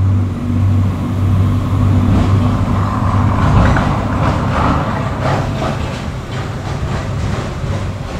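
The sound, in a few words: truck passing by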